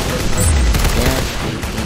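Rapid gunfire in the video game Arsenal, a loud dense burst of automatic shots packed together for a couple of seconds at close range.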